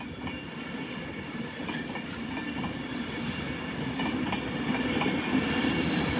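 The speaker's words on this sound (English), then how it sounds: "And off goes that 390 Pendolino next to us." A Class 390 Pendolino pulls out of London Euston alongside on the Glasgow Central service. Its rumble builds steadily over a rhythmic clickety-clack of wheels and faint squeal, close and continuous, with no voices.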